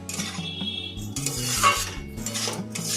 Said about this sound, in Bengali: একটু মিশিয়ে নেব।